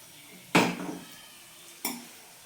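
Batter-coated chicken fingers dropped into hot oil in a kadai, two distinct splashes that burst into a loud sizzle and fade, the second softer, with no talking.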